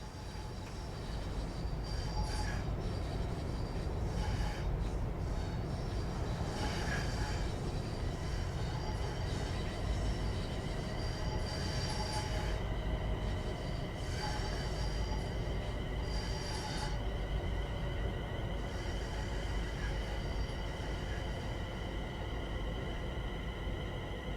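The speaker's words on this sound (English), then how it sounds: "Begin applying a small amount of braking force by moving the combined power brake handle into the braking range" A Class 350 electric train brakes into a station in Train Sim World 5, with a continuous rumble of wheels on rails and squealing brake tones rising and fading in repeated bursts.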